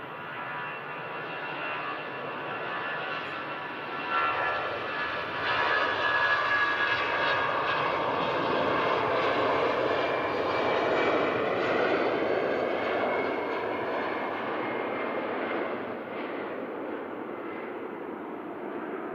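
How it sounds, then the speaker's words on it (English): An EasyJet jet airliner departing Manchester Airport for Belfast, a broad roaring engine rumble that swells to a peak midway and then slowly fades as it climbs away, with no talk. "An EasyJet heading out to Belfast."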